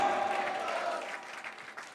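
A church congregation stands and applauds in praise during a worship service, a dense wash of clapping that swells loud and then eases slightly as it carries on, with no talking over it.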